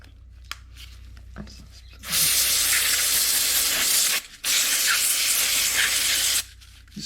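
Cleaner sprays in two long, loud, close hissing bursts onto the plug connectors of a 2020 Electric Motion Escape electric trials bike, separated by a short pause, with faint clicks before and after.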